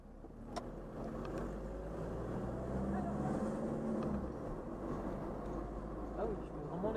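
Diesel Peugeot or Renault 1.9D car driving through town at part throttle, a low steady engine drone with road noise, while people talk over it inside the cabin.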